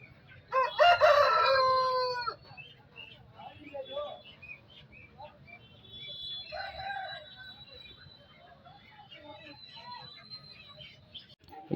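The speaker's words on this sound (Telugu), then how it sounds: "కోడి ఇది చూడొచ్చు, బాగుంది కోడి." A rooster at the Ongole market crows once loudly and close, followed by softer clucks and bird chirps amid faint market chatter and someone speaking nearby.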